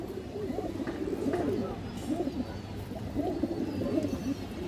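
Male racing pigeons at a seller's loft coo in repeated low, throaty rolls, several calls overlapping against a steady background hum, fairly close.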